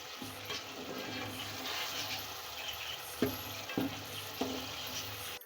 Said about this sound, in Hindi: इसको लाइट ब्राउन कर देते हैं कीमे को।